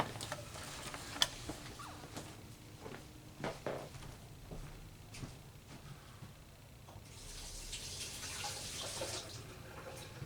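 Water from a tap runs faintly to wet a wood carving, with scattered ticks and knocks and a stronger hiss of flow toward the end.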